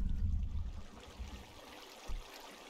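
Water flowing in Minecraft, a soft trickling, gurgling stream with a heavier burst at the start and a couple of brief surges later, fairly quiet and alone.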